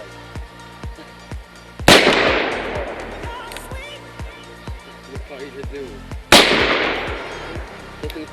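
Two loud gunshots ring out at an outdoor shooting range, each a sharp crack followed by a long decaying echo, while people talk nearby between them.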